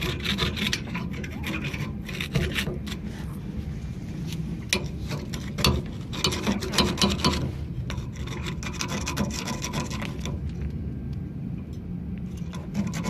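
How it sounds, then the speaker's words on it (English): Repeated rasping and scraping of a tool scraping old rubber out of Ford Ranger leaf spring shackles, uneven strokes in bursts, close up with no talking. "Scrape this all out."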